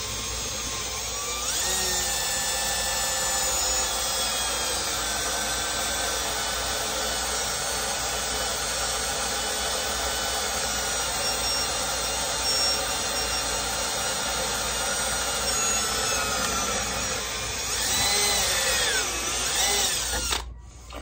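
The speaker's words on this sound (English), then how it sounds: "when you're drilling through already hardened steel" A power drill whines steadily as it bores through a hardened carbon steel knife blade, a loud continuous high-pitched grind that shifts pitch briefly near the end.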